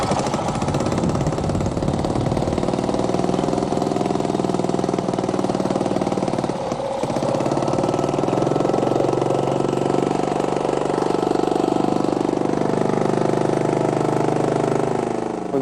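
An engine idles steadily with its exhaust running, a constant, loud rumble near at hand, a brief dip partway through, then settling back to an even drone with no talking.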